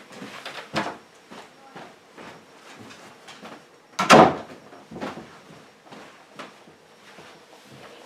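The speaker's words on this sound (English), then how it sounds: "Let me shut the door" A door is shut in a home, a single sharp thud about halfway through over a low background rustle and murmur.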